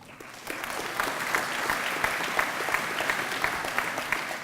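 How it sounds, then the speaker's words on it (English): Applause at a school assembly for a team captain: a crowd breaks into sustained, dense clapping after a brief quieter start, holding steady and fairly loud. "Generous round of applause."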